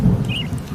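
Heavy cartoon rainstorm with thunder rumbling, a loud dense wash of rain over deep low rolls, continuous through a short moment with no voices.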